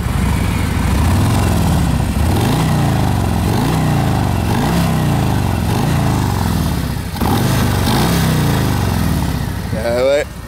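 A 2017 Harley-Davidson Road Glide motorcycle rumbles loudly on the road, its engine rising and falling through repeated gear shifts over constant wind noise, with a brief dip and a revving burst near the end.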